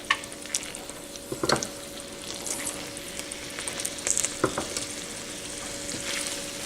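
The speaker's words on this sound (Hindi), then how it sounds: "अब थोड़े से बॉयल चावल निकाल के इसमें मिक्स कर लेंगे।" Boiled rice stirred into chicken in a hot pan for Persian rice with chicken and dried cranberries, giving a steady soft sizzle with a few louder scraping knocks of the spoon, close up and with no voices.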